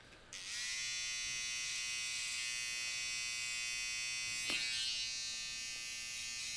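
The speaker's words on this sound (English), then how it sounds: "we'll take our trimmer, our detailing tool, and we'll implement our guideline right about here" A hair trimmer used as a detailing tool cuts a guideline for a modern undercut mullet, giving a continuous close electric buzz that holds steady for several seconds after switching on.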